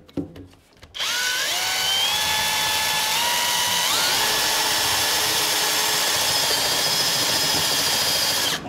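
A power drill with a half-inch bit bores through a window frame, starting abruptly after a second and whining steadily at close range with pitch shifts as the bit bites in.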